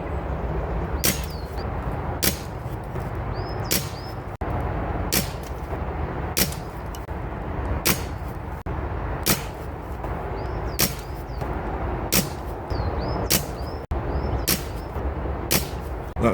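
Reximex Ixia Compact air rifle firing during a chrono string, with about a dozen sharp, evenly spaced shots roughly every second over a steady background hum.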